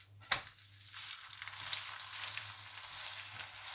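A mooli paratha cooks in oil on a hot griddle, giving a steady close sizzle and crackle after a sharp initial hiss, with faint pops scattered through.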